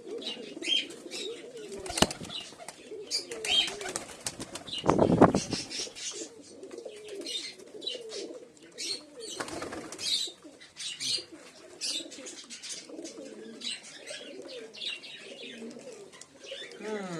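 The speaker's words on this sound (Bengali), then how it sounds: "একটা লালচিরা ভালো পায়রা আছে।" Giribaz and Madrasi pigeons in a loft at evening feeding give low, repeated coos throughout, with bursts of wing flapping and a few chirps, close and moderately loud.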